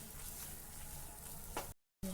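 Masala paste for paneer and green peas masala sizzles steadily in an oiled pan, a dense close frying hiss that breaks off briefly near the end, with no talking.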